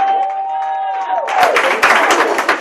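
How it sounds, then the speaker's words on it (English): Audience at a fashion event's thank-you address bursts into clapping and crowd noise after a held tonal sound, the applause dense and close. "Give a round of applause."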